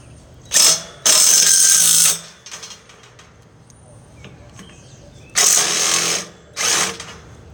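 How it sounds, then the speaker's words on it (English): Two bursts of a power drill whirring as it drives screws into a control box, each about a second or so long, with a quieter stretch of faint handling noises between them. "he's going to get a drill, and he's going to drill in the screws."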